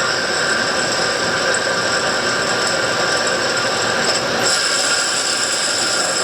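A 2008 Doosan Puma 2000SY multi-axis CNC turning center with a live tool on its turret, spinning at 1200 RPM, gives a steady, loud mechanical hum and whine that holds without a break, with no voices.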